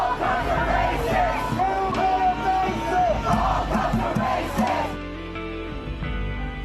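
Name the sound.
protesters screaming at the police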